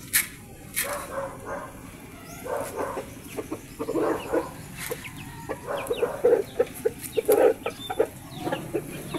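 A flock of chickens clucks and squawks busily at close range while being fed corn, a dense run of short overlapping calls with scattered louder squawks throughout.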